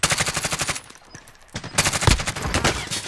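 Rapid automatic gunfire in a multiplayer shooter video game, loud, close bursts in steady rhythm, a brief lull, then renewed heavy firing.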